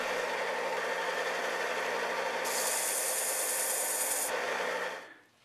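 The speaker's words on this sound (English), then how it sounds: "sand the face and edges" Steady abrasive rasping of sandpaper worked across the face and edges of glued wood pieces, a continuous close scratching with a brighter hissy stretch midway, fading out at the end.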